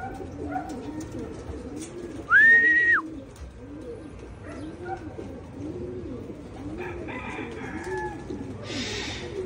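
Racing pigeons arriving at a loft during a race in Urdaneta, with soft repeated cooing throughout, one brief loud whistle-like tone, and scattered faint bird calls and rustles at moderate distance.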